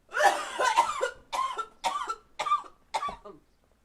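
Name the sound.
coughing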